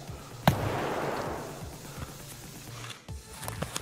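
Gunfire in the shooter game Escape from Tarkov: one sharp close shot followed by a rolling echo and a few fainter distant reports, with a second muffled crack near the end, no talking.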